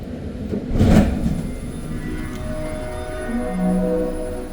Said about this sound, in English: once the train gets moving again